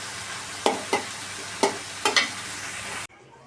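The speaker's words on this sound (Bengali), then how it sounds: "আর এদিকে পেঁয়াজগুলোকে ভেজে নিচ্ছি" Onions frying in a pan while shrimp dried-fish mash is prepared, giving a steady broadband sizzle with a few sharp scrapes of stirring, then abruptly cutting to near silence at the end.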